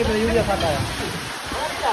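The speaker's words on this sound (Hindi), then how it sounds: "ये देखिए बड़ी ज़्यादा बारिश है यार।" Heavy rain falls during an outdoor party, a dense continuous hiss of downpour with someone talking over it.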